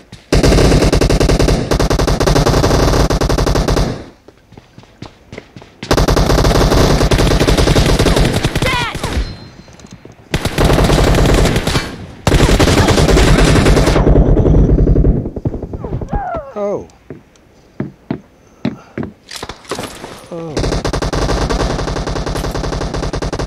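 Loud sustained automatic gunfire fills a video game team deathmatch shootout, with long continuous bursts broken by brief pauses and scattered single shots.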